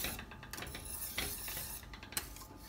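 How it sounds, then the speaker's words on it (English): A spoon stirs banana oatmeal porridge with vanilla in a pot just taken off the heat, making soft, close scraping and light metal clinks at a low level. "Add the vanilla. Mix this around."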